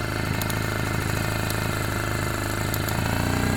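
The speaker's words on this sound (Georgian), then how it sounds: "მივცეთ პატარა აბაროდი" A boat's outboard engine runs steadily with a little throttle applied, a continuous loud mid-pitched drone with a faint rising edge near the end, no talking.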